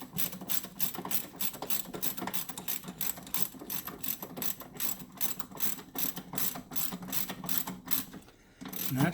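A ratchet wrench tightens a nut on a cold air intake box in a 2019 GMC AT4 with a 6.2L engine, its rapid, steady clicking close and loud, running continuously before a short pause near the end.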